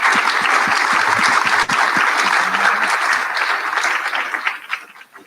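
An audience at a town hall meeting on elections claps steadily for a speaker, a dense, loud round of applause that thins out near the end.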